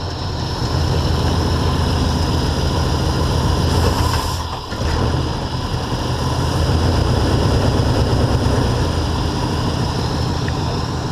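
Mercury engine idling during hose replacement, a loud close continuous low rumble with a steady throb and a brief dip near the middle.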